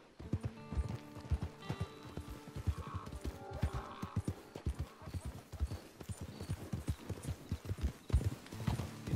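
Horse hooves clip-clop in a quick, steady rhythm in the video game Red Dead Online, close and fairly quiet, with no talking over them.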